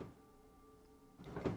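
A drawer in the horror video game Granny slides open with a short scraping rumble after a quiet humming stretch.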